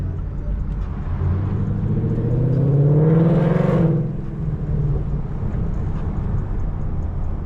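A Mustang engine revs and races in the Need for Speed video game, swelling into a rising, whirring roar midway before easing back to a steady drone.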